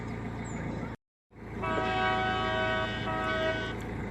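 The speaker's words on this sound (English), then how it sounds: "He's got like twin air horns on the front of his boat, so you can hear them miles away." Twin air horns on a narrowboat blare loudly in a long, steady two-tone chord after a brief cut, with a constant engine rumble beneath it.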